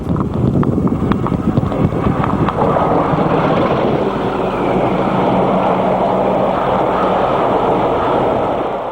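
Two British Rail Class 40 diesel locomotives haul a charter train at Church Fenton in 1983, a loud, close, continuous roar of engines and passing wagons with heavy wind buffeting, and no voices.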